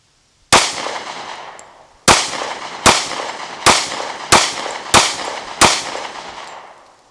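Seven loud gunshots from an M&P 40 Shield pistol fitted with a stainless steel guide rod, fired outdoors at a brisk, slightly uneven pace, each sharp crack followed by a short echo.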